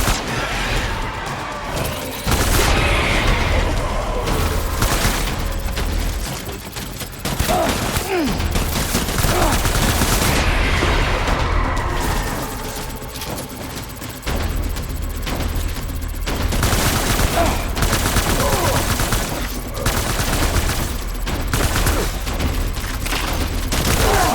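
Video game gunfire in Death Stranding: dense, loud bursts of rapid shots and crashing impacts come in waves, with shouted voices mixed in.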